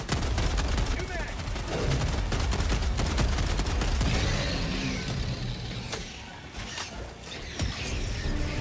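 Dense, continuous gunfire from the video game Helldivers 2, with rapid automatic bursts and explosive blasts layered into a loud, unbroken barrage.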